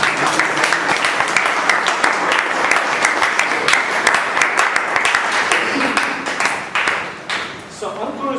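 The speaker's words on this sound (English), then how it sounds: "Please give them a big round of applause." An audience at a speaking club meeting claps steadily and loudly for several seconds, a dense wash of applause that thins out toward the end, with a voice heard under it.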